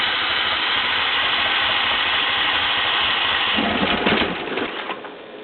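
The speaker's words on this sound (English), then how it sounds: "then hit the throttle harder" DMC engine running steadily with a continuous mechanical drone, then a throttle rise near the end brings a louder, rougher burst before the sound drops off.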